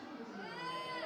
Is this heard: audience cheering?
yes